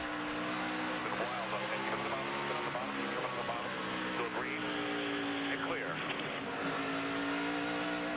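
NASCAR race cars at a 2012 night race, engines roaring loudly and continuously with several rising and falling passes, under a commentator's talk and crowd-level noise.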